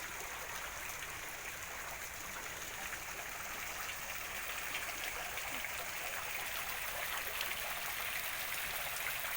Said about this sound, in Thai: นี่น้ำตกนะคะ